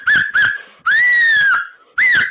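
Loud, clear human whistling at close range: two short rising chirps, then a long sustained whistled note of about three-quarters of a second, and a final rising whistle, with brief pauses between them.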